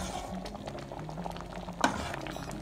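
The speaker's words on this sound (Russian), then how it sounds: "Варится это все уже около 40 минут." Pea porridge for fishing bait simmering in a pot after about forty minutes of cooking, a soft steady bubbling with one sharper pop, quiet and without talk.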